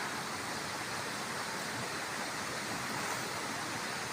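River water flows beside a lowland durian plantation as a constant, dense rushing hiss, steady and unbroken throughout, with no voices.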